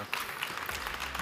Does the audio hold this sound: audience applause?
yes